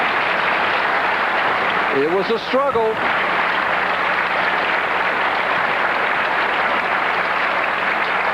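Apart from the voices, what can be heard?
standing ovation applause at a bowling tournament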